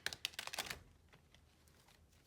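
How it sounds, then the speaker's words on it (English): Large oracle cards being shuffled by hand, a quick burst of crisp papery riffling and tapping at the start, then faint scattered card sounds, soft and close with no talking. "I definitely skipped over these oracle cards. They're huge, so be patient with me while I try to shuffle them."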